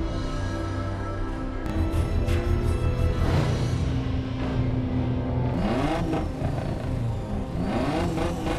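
Race cars rev and accelerate at the start of a mountain downhill street race in the film The Fast and the Furious: Tokyo Drift, engines loud and close with rising sweeps and pass-bys.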